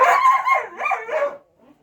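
Estonian hound dogs give a short run of loud, close barks and yelps lasting under two seconds, then fall quiet.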